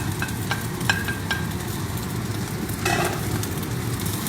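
Green onions get stirred into Chinese sausage fried rice in a hot pan, a steady sizzle under a few light scraping strokes and a brief louder scrape of the spatula near the end.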